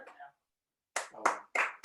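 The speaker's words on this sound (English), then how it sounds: "That is clap worthy" Clapping in an online meeting, with a brief bit of muffled sound, a pause, then three quick bursts of hand claps close to the microphone, fairly quiet overall.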